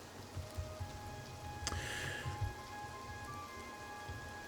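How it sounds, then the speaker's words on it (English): Steady rain in the video game The Elder Scrolls IV: Oblivion Remastered falls in a soft continuous hiss, with a low rumbling patter underneath and a few faint tonal hums drifting in the background. "It's raining."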